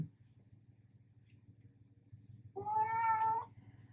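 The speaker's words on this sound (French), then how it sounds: "vous avez vu que Monsieur le chat était bavard ce matin" A house cat gives one clear, fairly loud drawn-out meow near the end, after a stretch of quiet low room hum.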